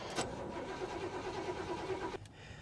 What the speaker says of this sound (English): At least the engine turns, but she's not going to.